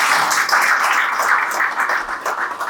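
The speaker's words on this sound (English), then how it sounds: "Please give him another round of applause." A dense, steady round of audience applause fills a business forum hall for young CEOs, with many hands clapping at once and no break for close to three seconds.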